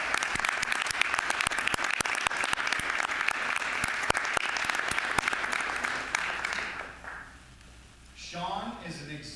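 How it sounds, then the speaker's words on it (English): A room of people applauding a seventh-grade student honoree at a school board meeting: dense, even clapping for about six seconds that fades away, followed by a voice starting to speak. "Let's give Sean a round of applause."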